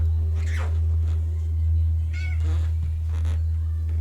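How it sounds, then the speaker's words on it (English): A cat meows a few times close by, its short cries rising over a loud, constant low electrical hum. "I got a kitty."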